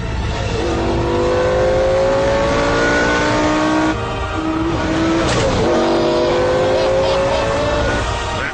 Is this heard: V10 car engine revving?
yes